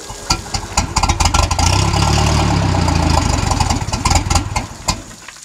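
1976 Starcraft boat engine cranking, catching and settling into a rumbling idle, with clicks and rattles around it, close and fairly loud before easing off.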